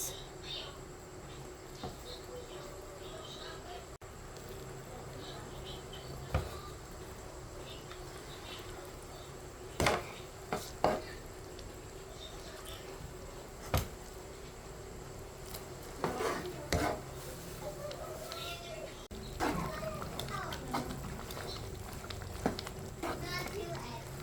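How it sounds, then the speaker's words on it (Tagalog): Glutinous rice for biko tipped into a pot and stirred, soft continuous scraping and shuffling with several sharp clanks of a utensil against the pot, under intermittent talk and a steady background hum. "Ngayon, idagdag ko na yung aking malagkit na rice."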